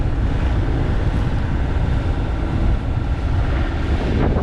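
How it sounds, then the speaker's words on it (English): Steady, loud wind roaring across the microphone aboard a small boat on the open sea off Southern California, blowing at about 16 knots and gusting to 18, a dense, continuous rush with no voices. "wind hits us."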